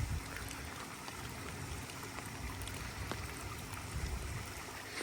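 Rainwater pours steadily into a backyard pond drain, a dense continuous rushing and trickling wash with faint splashes, even in level throughout and with no voices.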